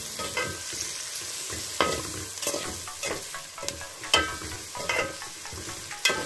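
Cauliflower manchurian ingredients being stirred in a sizzling pan, repeated spatula scrapes and knocks over a steady frying hiss, close up with no speech.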